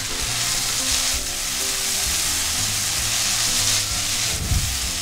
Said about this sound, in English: You can hear that sizzle, right?